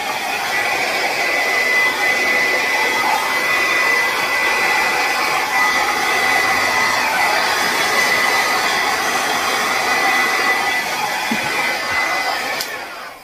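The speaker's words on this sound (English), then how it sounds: "Then, of course, I'm going to take my blow dryer and blow this out." A blow dryer blows steadily across a wet acrylic paint pour on a canvas, a loud, constant whooshing drone that runs unbroken for about thirteen seconds with no talking.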